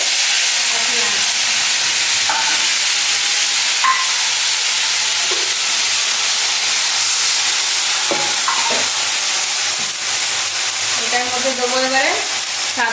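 Ground spice paste with ginger and garlic sizzling loudly in a hot pan while cooking silver fish, a constant close frying hiss with occasional clinks and scraping stirs.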